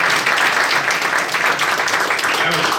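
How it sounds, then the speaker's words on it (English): A Kansas Young Democrats audience claps in a steady, dense round of applause that fills the room at close range and holds without a break throughout. "give yourselves a round of applause for the work."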